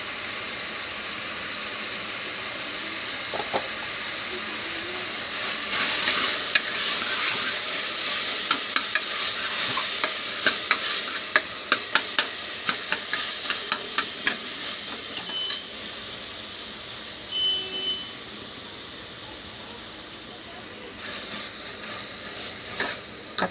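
Tomatoes with turmeric, coriander and curry leaves sizzle and hiss in a pan for chicken kurma, with a steady frying bed broken by repeated sharp clicks and scrapes of a spoon stirring.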